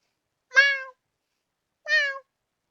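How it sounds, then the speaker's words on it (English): Two clear meows from a cat, spaced apart by a short silence, close and distinct with nothing else around them. "nodded and meowed up to the man. Meow!"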